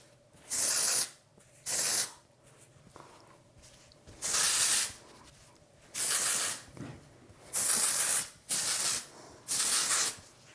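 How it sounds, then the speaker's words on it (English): Seven short bursts of hissing aerosol dry texturizing hair spray, each about a second long, separated by brief pauses, close by. "I'm gonna spray up in the hair and then I'm gonna really work it in with my hands."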